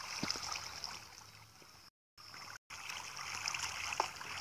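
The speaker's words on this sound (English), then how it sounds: "This is where the water comes from." Faint, steady trickling and burbling of flowing water in the blocky sandbox game Minecraft, a continuous soft stream broken by two brief dropouts, with no voices.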